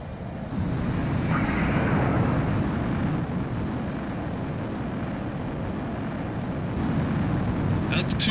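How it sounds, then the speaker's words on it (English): A fighter jet's engine roars steadily during takeoff in the video game Ace Combat 04, a loud, continuous rumble that holds at a constant level for several seconds. "Mobius 1, you are cleared for takeoff."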